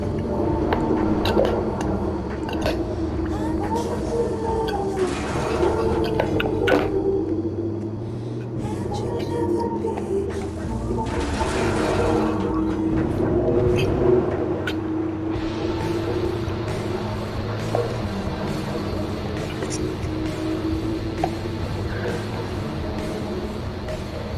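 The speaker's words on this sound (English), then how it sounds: "I'm gonna have to drive in water." Vehicle ploughing through water in Fortnite, a continuous churning, splashing wash over a low motor rumble, steady and close for the whole stretch with occasional bursts of sloshing.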